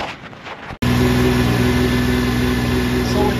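Yamaha Vector snowmobile engine idling after a clutch repair for a factory noise issue, a steady close mid-pitched running drone that starts abruptly after a brief quieter stretch and holds even throughout.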